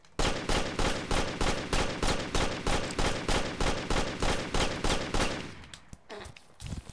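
Rapid gunfire in the game Amazing Frog, a long even run of loud sharp shots at a steady automatic rhythm that stops abruptly, leaving a few scattered clatters.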